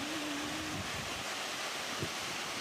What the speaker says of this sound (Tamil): ஓ ஓ ஓ இந்த அருவி